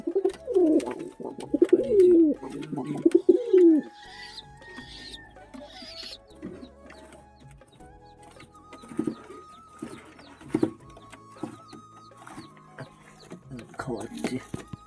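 Pigeons in a backyard coop coo and rustle, a close burst of throaty cooing at the start followed by scattered softer coos, wing flutters and shuffling amid quiet surroundings.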